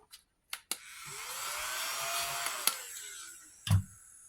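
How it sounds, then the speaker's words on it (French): A vacuum cleaner starts up after a few clicks and runs with a steady whirring drone that rises in pitch as the motor spins up, then cuts out with a thump near the end. "Aspirateur, il est là."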